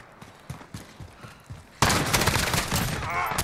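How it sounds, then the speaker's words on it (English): A CTAR-21 SBR rifle in Call of Duty Modern Warfare fires a fast, sustained automatic burst that erupts loudly after a stretch of quieter single shots and movement. "The rate of fire on this weapon, very similar to how it was in Modern Warfare 2"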